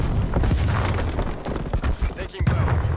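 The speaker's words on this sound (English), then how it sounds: "Throwing frag grenade." Booming explosions and gunfire fill a Call of Duty Black Ops Cold War Domination match as a frag grenade goes off, dense loud blasts layered over continuous chaotic battle noise with game voice lines.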